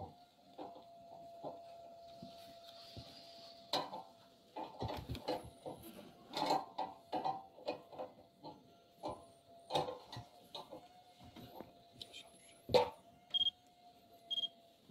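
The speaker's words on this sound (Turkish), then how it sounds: "Uyduyu gördüğünde ötmeye başlayacak." A satellite finder tuned toward the Türksat satellite gives a steady tone with rapid ticking beeps and clicks that come in uneven bursts, fairly close and moderately loud over a quiet background.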